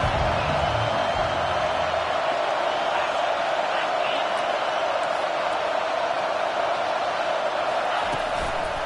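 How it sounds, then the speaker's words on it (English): Stadium crowd noise in an NCAA college football video game during a third-down defensive stand: a dense, steady roar that holds loud and unbroken throughout, with no clear peaks. "Decibels rising as the crowd gets behind this defense on third down."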